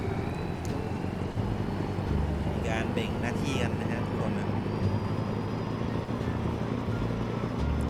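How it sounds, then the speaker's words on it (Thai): A tractor engine in Farming Simulator 19 drones steadily and loudly with a low, continuous rumble throughout, while someone talks over it. "เราก็มาขับรถไถนะฮะเหมือนเดิม"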